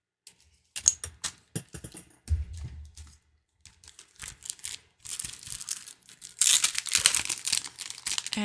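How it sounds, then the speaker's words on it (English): Thin foil sheets being cut to size and handled near a laminating machine, producing close crinkling, tapping and rustling sounds in irregular bursts, growing louder and denser toward the end. "So all we need to do is cut some foil down so that it is the size that we need."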